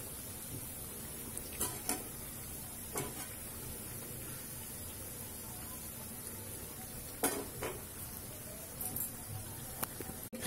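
Khasta gulgula frying in hot oil over a medium flame gives a steady, close sizzling hiss throughout, with a few faint clinks of a utensil against the pan.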